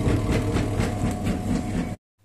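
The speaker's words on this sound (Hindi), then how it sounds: "ये इस बेल्ट के टूट जाने की वजह से ये मशीन इस तरीके से आवाज़ दे रही है" A washing machine with a broken drive belt runs with a steady, heavy mechanical rumble and a faint regular thumping pulse, fairly loud and close, then cuts off abruptly near the end.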